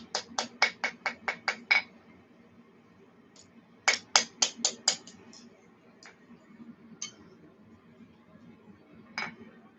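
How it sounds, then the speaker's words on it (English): A hammer taps on the side of a warm oil tank: a quick run of eight light metallic ticks, a pause, then another fast burst and a few scattered taps, close up and fairly quiet. "So we're going to grab a hammer here"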